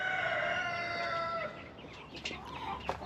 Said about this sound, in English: Well, all of these chicks are in their home for now.